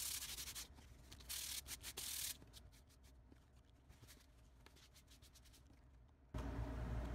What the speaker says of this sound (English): what I'm going to do now is just sand that away and see how it acts afterwards